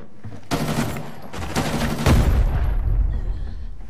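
Hip-fired gunshots in the mobile shooter Arena Breakout: three loud bursts of rapid automatic fire, each several shots long, with the last burst the heaviest and followed by a fading rumble.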